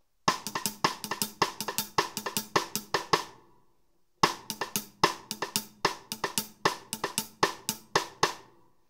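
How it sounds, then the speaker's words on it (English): Cross-stick drum fill on a drum kit, two runs of rapid evenly spaced clicking rim strikes separated by a short pause, close and clear with no talk. "And you can use that as like a little fill, and it'll sound like this."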